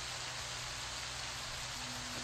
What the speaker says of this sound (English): Raining as hell, but we're there.